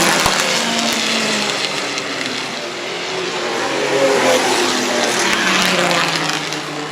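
Vintage race cars roar past at the Pittsburgh Vintage Grand Prix, a dense continuous engine drone of several cars swelling and fading as the field passes, loud and close with no talk.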